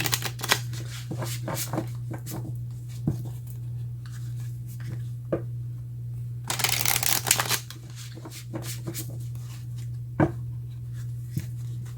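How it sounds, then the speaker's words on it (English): Playing cards being shuffled and riffled, several quick bursts of ruffling with soft taps between, close up over a low steady hum. "let's see if I can shuffle these"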